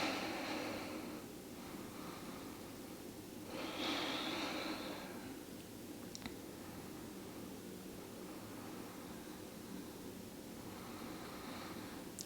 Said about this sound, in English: A couple of deep breaths in here.